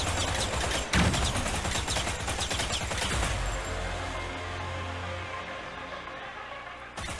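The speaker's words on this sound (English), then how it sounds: "Okay, some grenades." Gunfire and grenade blasts in a video game mini game, with rapid shots and sharp bursts in the first half, then a deeper rumble and quieter stretch before another hit near the end.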